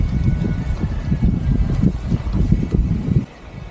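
Strong wind at a campsite in Tanay buffets the microphone in loud, gusty rumbling bursts before dropping away abruptly near the end.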